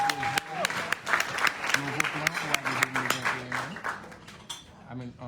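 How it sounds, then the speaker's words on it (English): Scattered clapping from a modest community-event audience, sharp individual claps rising and fading over several seconds, with voices and a few clinks of dishes or cutlery mixed in underneath. "Give her another round of applause, please."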